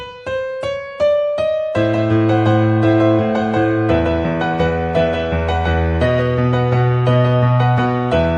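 Piano played with both hands: a repeated bright treble note over low bass chords, then fuller sustained chords in a bouncy, steady rhythm.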